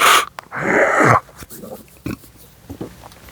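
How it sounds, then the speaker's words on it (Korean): Harsh, rough coughing bursts close by, one long raspy hack followed by a few shorter throaty coughs and breaths. "목이 간질간질해가지고 자꾸 기침이 나오고요"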